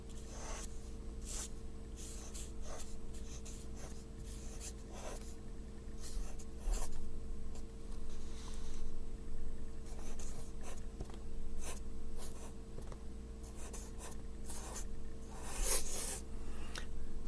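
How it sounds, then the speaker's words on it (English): Pen scratching across paper while writing fancy calligraphy, a soft rhythmic series of short strokes repeated steadily over a quiet low room hum, close and faint. "I'm gonna write handwriting, but maybe more fancy like this."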